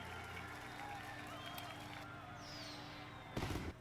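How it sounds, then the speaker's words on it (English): Fireworks from the finale of the animated series The Legend of Korra, heard as a short, loud crackling burst near the end over a steady orchestral soundtrack. "And they have fireworks, yay!"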